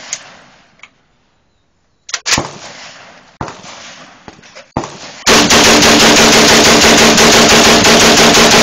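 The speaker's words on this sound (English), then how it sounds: "20 rounds with the Saiga 12." A Saiga 12 shotgun fires 20 rounds in rapid succession, a loud, sharp, evenly spaced burst of booming reports after a few scattered clicks and handling noises, with no voices.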